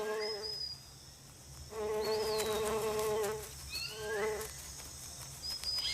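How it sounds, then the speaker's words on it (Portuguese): Bees and other insects buzzing around flowering rainforest trees in the Amazon, a faint, steady hum that swells and fades, with high bird chirps scattered over it. "Seu néctar rico atrai abelhas e outros insetos."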